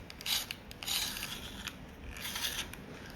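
A Derwent Coloursoft colored pencil being turned in a sharpener, a close, soft scraping and rasping with brief bursts of grinding, alone with no talking.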